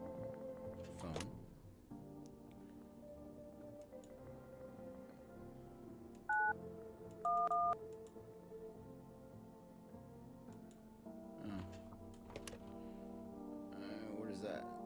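In a video game, a phone's dialing tones sound as a few short, faint beeps over a low hum and game background, with a voice talking around them.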